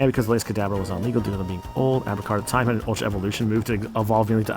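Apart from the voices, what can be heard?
No everyday noise stands out behind the speech.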